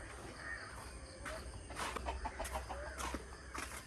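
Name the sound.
chicken clucking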